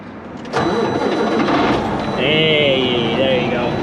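A truck engine rumbles to life and keeps running with a loud, steady drone, a higher whine rising over it partway through.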